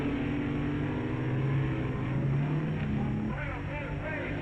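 Dragsters at a 1959 NHRA drag race roar steadily off the line, a dense, loud engine drone with shifting pitch throughout, ending in rougher revving texture.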